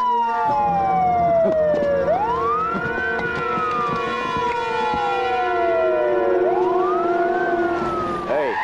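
A police car siren wails loudly and close by at night, sweeping down and back up in long, slow cycles over a steady engine rumble.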